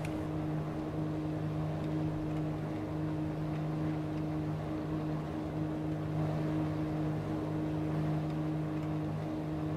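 A World War II-era propeller fighter engine in a War Thunder simulator battle, throttled back near overheating, drones steadily and evenly throughout, with strong low tonal hum and no voices.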